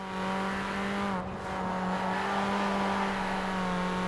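A Mini convertible's engine droning steadily while driving in Forza Horizon 4, a constant close hum with a brief dip in pitch midway, then holding at an even level.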